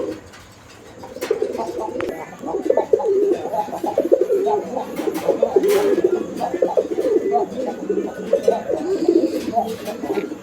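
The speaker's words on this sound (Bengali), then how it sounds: "কবুতরগুলো দেখেন" Pigeons of a bright deep red colour, kept for sale, coo repeatedly and close by in soft, throaty bursts, with occasional light clicks and rustles in between.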